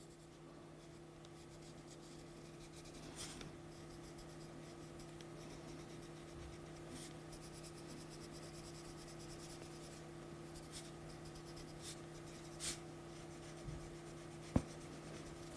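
A pencil scratches steadily across a watercolour card as it colours in an area, a close, continuous soft rasp with a few faint taps.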